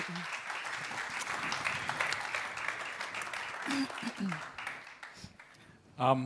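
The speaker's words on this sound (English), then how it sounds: "Let's give a round of applause" Audience applause at a panel event rolls on for several seconds, a broad wash of clapping with bits of talk scattered through it, before a voice comes in near the end.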